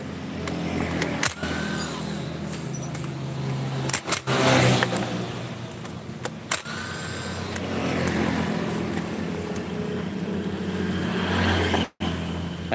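Yamaha RX King two-stroke motorcycle with a ported engine, revving in bursts with rising and falling engine tone and a few sharp clicks between the revs, close to the listener, with no voices.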